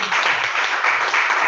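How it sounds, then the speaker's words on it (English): A round of applause from an audience at a morning meeting, a dense steady clapping close by and fairly loud, with no talking over it. "Please give him a big round of applause."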